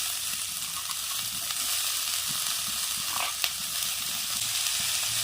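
Chopped cabbage leaves fry in a pan with other vegetables, giving a steady, close sizzling hiss with faint crackles and occasional stirring scrapes.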